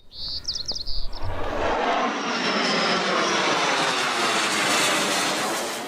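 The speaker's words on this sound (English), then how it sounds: "The jets, known as Growlers for their low, noisy rumble, regularly fly training missions low and loud" Birds chirp briefly before a loud jet engine roar builds and fills the air, a sustained low, heavy rumble as Navy Growler military jets fly low overhead.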